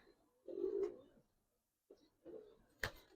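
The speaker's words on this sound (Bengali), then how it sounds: "একদম সম্পূর্ণ চড়া কবুতর দেখেন ভাই।" A soft, low coo from Giribaz highflyer pigeons nearby, then a short pause and further quieter coos ending in a brief sharper sound.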